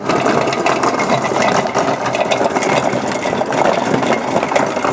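Magimix Cook Expert food processor chopping vegetables at raised speed, a loud continuous mechanical whirr with a gritty ratcheting texture that stays fairly even throughout.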